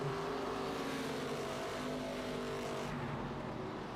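ARCA race cars run around the Southern National track with a steady, loud engine drone and layered rising and falling engine tones as several cars pass and roar on together.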